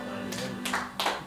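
A church congregation applauding, heard as three separated bursts of hand claps, each swelling and fading within a second, fairly close and moderately loud against a low hum.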